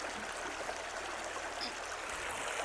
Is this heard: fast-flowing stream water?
yes